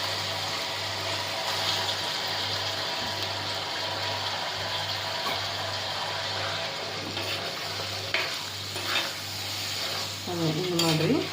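Chicken sizzling and frying in ginger garlic paste while being stirred in a pan, a steady crackle with scraping stir sounds, plus a brief squeaky sweep near the end.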